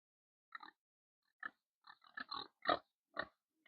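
Piglets at a farm gate at feeding time give several short, soft grunts and oinks in separate bursts, fairly quiet and close, with no talk.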